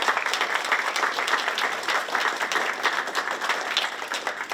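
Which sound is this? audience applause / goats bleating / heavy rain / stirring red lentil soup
audience applause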